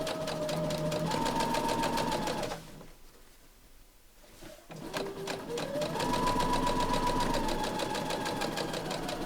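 A sewing machine runs fast and steadily while sewing a flat seam on a patchwork tablet pouch, pauses briefly, then resumes at full speed, close and loud with no talking.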